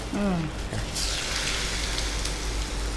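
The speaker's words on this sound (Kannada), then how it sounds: "ಆಲೂ ಬೋಂಡ ಎಣ್ಣೆಗೆ ಬೀಳ್ತಾ ಉಂಟಲ್ಲ" Aloo bondas crackle and sizzle in hot oil over a lowered gas flame, a steady dense frying hiss with a brief voice at the start.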